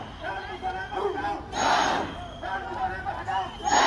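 Demonstrators outside the Botswana High Commission building shout a repeated rhythmic chant as a crowd, loud and close, with a stronger surge of voices midway and again at the end.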